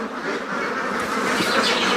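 A large flock of ducks on a winter duck farm of about 500 birds quacks continuously, a dense, overlapping chorus of many ducks close by.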